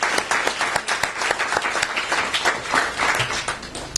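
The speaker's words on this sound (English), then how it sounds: "So another round of applause for Mr." A press-conference audience applauds a league commissioner at a Philadelphia Yellow Jackets event: dense, sustained clapping from many hands, fairly close and steady for the full duration.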